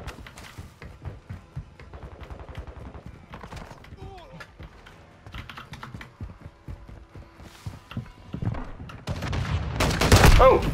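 Rapid bursts of gunfire ring out in the shooter Gun Game, with clusters of quick shots and keyboard clicks, growing louder and denser toward the end, while a player talks intermittently.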